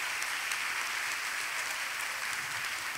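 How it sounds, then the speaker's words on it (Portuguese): An audience at a church women's gathering gives dense, steady applause, loud and even throughout, with no other sound standing out. "Quero uma salva de palmas para as três, porque elas merecem."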